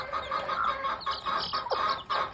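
An American Gamefowl hen clucks close by in a short run of soft, rhythmic clucks with brief pauses and a few higher notes between them.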